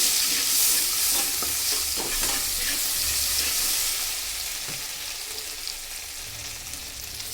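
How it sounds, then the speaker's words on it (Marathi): Chutney powder and turmeric frying in a hot pan, a loud continuous sizzle with rapid scraping stirs for several seconds that eases slightly toward the end, with no voices. "थोडी चटणी पावडर टाकून चवी पुट्टी हळद टाकली चांगला हलवून"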